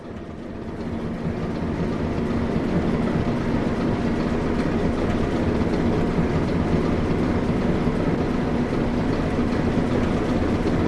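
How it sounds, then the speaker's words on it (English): Continuous rumbling of a moving British Rail train in Train Sim World 2, with a steady rolling roar and faint rhythmic rattling, building slightly at the start then holding constant. "With the train now moving, it's possible to apply more power"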